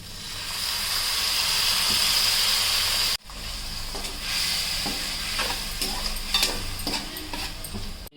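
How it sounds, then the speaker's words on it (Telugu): Yogurt goes into a sizzling masala for egg biryani, with steady frying hiss, a brief cut, then continued sizzling and soft stirring scrapes in the pan, moderately close and with no talk. "మసాలా వేసుకున్నాం. పెరుగు వేసుకుందాం."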